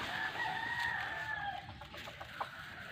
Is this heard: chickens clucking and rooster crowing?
yes